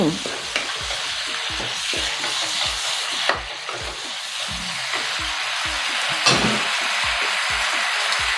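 Tofu is stir-fried with pepper and vegetables in a hot pan, with a continuous sizzle under rhythmic, evenly spaced scrapes of a spatula, close and loud.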